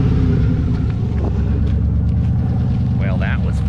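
A 600 HP turbocharged GMC Yukon XL rumbles steadily from inside the cabin while driving, a dense low drone that stays loud throughout, with faint voices and small interior noises layered over it.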